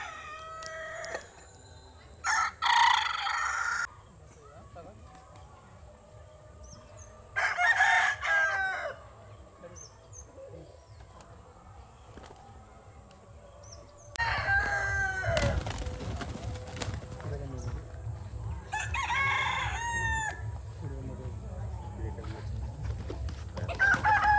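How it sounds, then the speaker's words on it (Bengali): Tethered fighting roosters crow loudly in repeated bursts on Mousuni Island, some close and some farther off, with clucking hens and steady farmyard noise filling the gaps. "এই দেখো সব বাধা রয়েছে, মোরগ"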